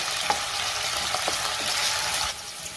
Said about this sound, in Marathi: तेल गरम झाले, त्यामध्ये मी हा बटाटा घालते